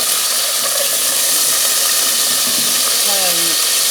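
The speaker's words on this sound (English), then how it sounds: "going to add a bit of cubed potatoes. Let them roast." Cubed potatoes roast in a hot pan, giving a loud, steady hiss and sizzle close by that continues without a break for the whole stretch. A brief tonal squeak comes near the end.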